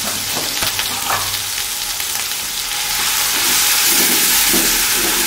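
Onions hit hot oil with a loud, steady sizzle and hiss during restaurant-style chicken biryani cooking, the frying growing stronger toward the end, with a few soft clinks of utensils and no talking.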